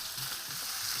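Sautéed spices with turmeric and water being mixed in a pan, giving a steady soft sizzle with faint stirring scrapes, quiet and continuous throughout.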